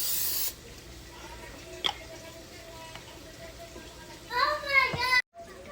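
Cooking oil sprayed onto a steamer over boiling water for cheesy shumai gives a short, loud hiss right at the start. Faint voices and children's chatter carry on in the background afterward.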